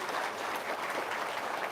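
An audience at a testimonial gathering applauds, a soft, even wash of many hands clapping at a moderate distance.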